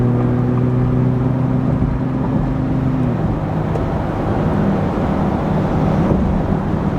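A 2024 Ford Raptor cruises at a steady 60 mph around 1500 RPM, its low engine drone and road roar constant and loud throughout, with a humming tone that drops slightly partway through.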